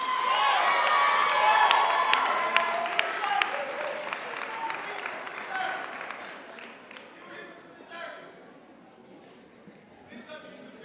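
A commencement crowd at Pine Manor College claps and cheers for graduates, loud and dense at first with shouts over the clapping, then thinning and fading to scattered claps and voices toward the end.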